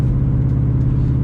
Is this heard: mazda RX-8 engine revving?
yes